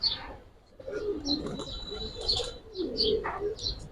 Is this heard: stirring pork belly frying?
no